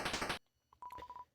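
Phone speed-dial tones in the Underswap game: a few quick beeps and then a steady run of pulsed dial tones, clear and alone after a brief loud burst of other sound.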